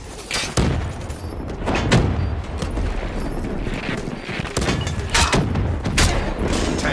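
Heavy gunfire and explosions from a frag grenade fill a Black Ops 3 multiplayer match, with dense rattling bursts and booming thuds that keep the sound loud and continuous throughout.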